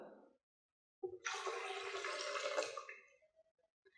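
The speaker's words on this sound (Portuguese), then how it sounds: "Colocamos a água" Water poured into a blender jar holding squeezed orange and lemon, a steady splashing pour of about two seconds that tapers into a few drips, close and without talking.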